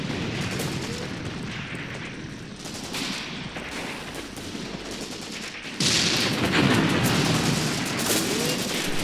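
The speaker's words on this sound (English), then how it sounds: "See our boys opening up with the machine guns here." Machine gun fire in the war game Graviteam Tactics: Mius Front: dense, continuous crackling bursts and distant booms with no pauses, growing noticeably louder and closer partway through.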